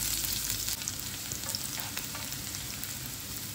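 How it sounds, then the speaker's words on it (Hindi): Chopped garlic frying in mustard oil with curry leaves, browning for a burani raita; a steady close sizzle and crackle that stays fairly even throughout, with light stirring, no voices. "गार्लिक को हमें ब्राउन करना है दोस्तों।"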